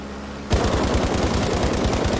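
Gunfire in Battlefield Mobile, an early-access shooter: after a short lull, a loud, sustained automatic burst of rapid shots runs continuously to the end, close and dense, with no talk over it.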